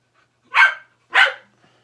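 A dog barks twice nearby, two sharp separate woofs about half a second apart against a quiet background.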